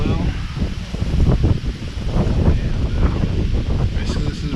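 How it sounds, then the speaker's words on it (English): Strong wind roars through Missouri woods during an evening hunt, steady gusting rush with rustling leaves and buffeting against the microphone, swelling and easing in waves; quiet voices may sit beneath it. "As you can tell, it's still incredibly windy."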